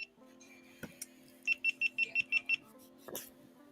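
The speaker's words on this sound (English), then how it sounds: "Something's beeping." A small electronic device gives a quick run of seven sharp, evenly spaced high beeps. They sound close and fairly quiet against a soft background hum, with a few scattered clicks and knocks around them.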